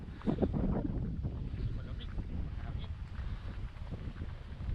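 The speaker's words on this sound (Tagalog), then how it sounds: "Malakas ang hangin." Gusty wind buffets the microphone with a low, rumbling roar that stays steady for several seconds, with a few faint knocks underneath.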